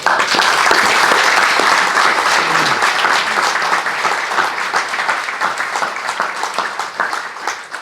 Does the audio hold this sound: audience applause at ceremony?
yes